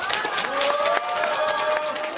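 A crowd at a gathering for plaintiffs who won a forced-labour lawsuit applauds loudly and densely, with voices calling out through the steady clapping.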